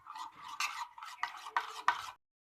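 Maida dough mixed by hand, heard as a run of close, soft, squishy kneading pulses in a steady rhythm that ends abruptly in silence.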